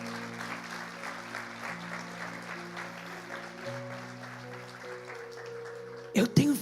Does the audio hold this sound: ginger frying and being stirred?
no